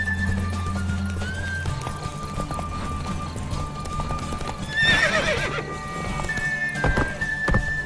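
Hooves clip-clop steadily as a horse runs in The Witcher video game, with a loud whinny bursting out midway and hoof thuds continuing to the end, set over a low game soundtrack drone.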